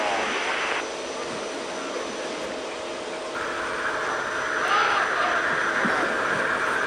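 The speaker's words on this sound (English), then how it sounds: "Wheels down. Nice landing." Aircraft landing on a ship's deck, a steady jet engine whine with shifting tones, moderately loud and continuous throughout.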